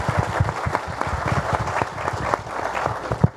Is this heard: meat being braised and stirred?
no